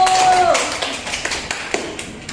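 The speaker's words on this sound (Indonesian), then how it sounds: "Tepuk tangan dulu." A classroom of primary school pupils claps during a lesson, a quick scattered burst of hand claps with a voice briefly heard at the start, fading as the applause thins out.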